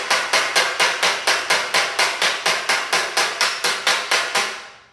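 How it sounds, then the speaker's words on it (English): A hammer taps a high spot on metal body panel held against a dolly in a fast, steady rhythm, about three blows per second, loud and close, each ringing briefly before the next strike. "I'm going to put my dolly under the low spot and then tap that high spot down."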